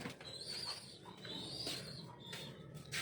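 Racing pigeons at feeding time coo softly at a distance, a faint, steady murmur of low calls with a few higher chirps.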